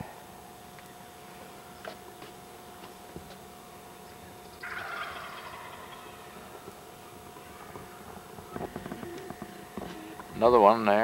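Wild turkeys gobble in the woods: faint distant calls through a quiet background with low murmuring, then a louder rapid gobbling burst at the very end.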